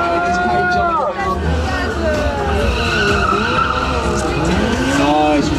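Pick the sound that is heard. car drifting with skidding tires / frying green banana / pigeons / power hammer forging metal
car drifting with skidding tires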